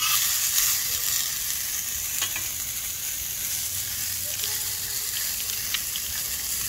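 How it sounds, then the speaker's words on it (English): Onions sauteing on a flat-top grill give a steady, close sizzle and crackle that holds even throughout, with faint scraping and stirring sounds here and there. "we're gonna come over here with these onions that we threw on, and we'll start the saute game here"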